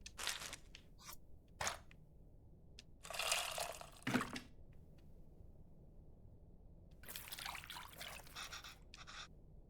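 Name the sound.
water mixed with tamarind in a bowl, video game Venba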